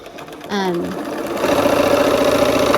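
A sewing machine stitches a quilt block seam at close range, starting with a short tonal whir and settling into a steady, humming mechanical run; a voice talks over the start.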